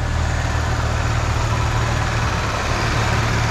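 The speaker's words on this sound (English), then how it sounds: "Engine is running smooth as can be." A 1984 Ford Mustang SVO with low mileage idles smoothly, a constant low engine hum and steady mechanical drone with no knocks or ticks, loud and close.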